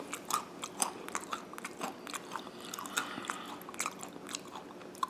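Hazelnuts are chewed close to the mouth, with a continuous run of crisp, irregular crunches and bites and no pauses.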